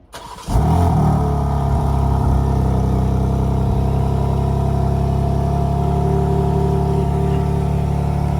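A new car's engine cranks and catches about half a second in, then settles into a steady, loud, close rumble with slight revving throughout, no talking.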